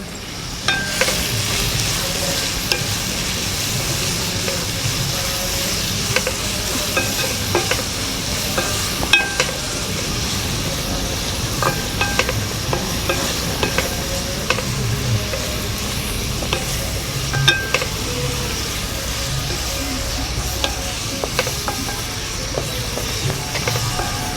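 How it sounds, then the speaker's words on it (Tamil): Onions sauté with salt in a pan, a steady sizzle with frequent scraping stirs of the spatula running throughout, close and fairly loud with no talk. "நல்லா வதங்கிறதுக்கு உப்பு போட்டு வதக்கிக்குவோம்"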